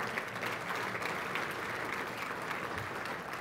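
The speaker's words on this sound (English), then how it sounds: "a big round of applause for our title sponsor, Port San Antonio" An evening audience at a district address claps in steady, sustained applause for a title sponsor, a dense even patter of many hands heard at some distance that keeps going without a break.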